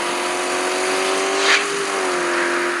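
A BMW car accelerates from a start as a loud, close engine drone whose pitch holds steady and then climbs slightly, with a brief burst of extra roar midway and no talking.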